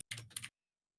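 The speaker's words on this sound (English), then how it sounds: "Hugo, I can hear you typing." Computer keyboard typing in two quick bursts of clustered key clicks, close and fairly loud, with no voice, then silence for the second half.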